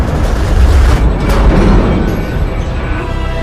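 A fuel tank explodes aboard the space station in the film The Cloverfield Paradox, a loud, deep rumbling boom that rolls on and slowly fades, with no talk over it.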